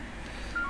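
An incoming phone call sounds as a short electronic tone that rises near the end of the clip over a low background hum, with no talking.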